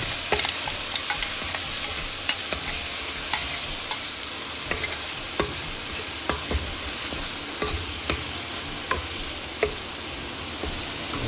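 Spice tempering roasts in hot oil in a pan for a mushroom and pea curry, a steady sizzle with the spoon scraping and tapping the pan every second or so.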